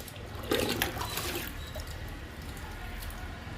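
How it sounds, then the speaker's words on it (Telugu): Liquid fertilizer is poured onto potted indoor plants, a short splashing gush of water near the start that fades into a quiet trickle, faint and close. "లిక్విడ్ ఇస్తున్నా రణపాలకి వామాకుకి లిక్విడ్ ఇచ్చేద్దాము"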